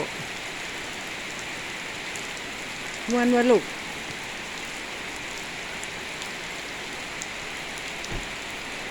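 Steady rain falls and patters outdoors as a constant soft hiss. A brief voice is heard once partway through, and a faint thump comes near the end.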